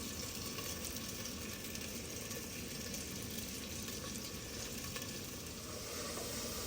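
Onion frying in hot ghee in a village kitchen, a faint, even hiss of sizzling that holds steady with no breaks, no voices.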